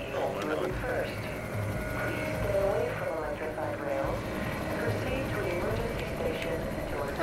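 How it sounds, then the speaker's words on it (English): Helicopter in the video game Black Mesa, a steady rotor drone running continuously at moderate level with people talking over it. "it's really helicopter"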